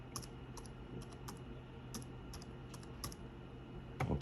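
Quiet, close typing on a computer keyboard beside an office scanner, a steady run of light key clicks ending in a slightly heavier pair of strokes.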